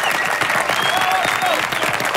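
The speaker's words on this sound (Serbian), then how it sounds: "I dajte aplauz Acu, molim vas" A studio audience applauds Aca on a Serbian home-makeover show, dense steady clapping with voices cheering and talking over it throughout.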